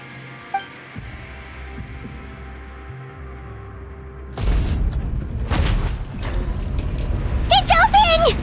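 In a story quest from a video game, a sluice gate mechanism grinds open: a low hum suddenly gives way to a loud, rumbling mechanical surge with heavy clanks, and a voice cuts in near the end.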